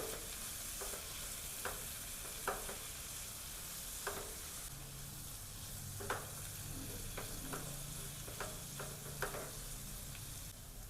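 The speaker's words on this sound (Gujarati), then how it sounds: "આપણે ભીંડા એડ કરી દઈશું। તેને આપણે મિક્સ કરી લઈશું।" Okra being stirred into hot oil for bhindi masala, a quiet steady sizzle under repeated scraping and clinking strokes of a spoon against the pan at an uneven pace.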